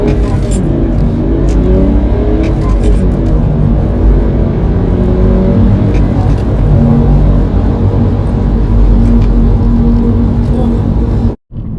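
A remapped BMW E91 330d diesel estate with DPF, EGR and swirl flap deletes accelerates hard on the road, heard from inside as a loud, sustained engine roar rising through the gears for about eleven seconds before cutting off abruptly.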